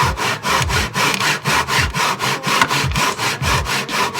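A hand saw cuts a wooden paint stick held in a miter box, giving roughly ten quick, even back-and-forth rasping strokes, close and clear with no talking.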